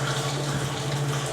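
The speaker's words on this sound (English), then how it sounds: "So I'll trade that for a water effect that I prefer in the original" Steady rushing water in the video game CAT Interstellar, a continuous close wash with a low hum beneath it and no talk.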